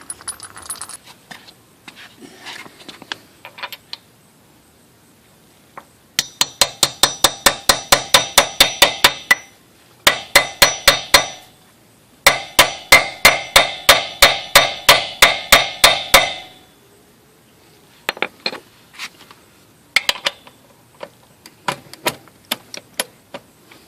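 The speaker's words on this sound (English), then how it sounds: "you're going to pound it through so that it falls into here, and then you free up your socket" A socket is hammered onto a wheel lock on a 2004 Nissan Armada, loud sharp metallic strikes in rapid even bursts of a dozen or more blows, separated by pauses and lighter taps.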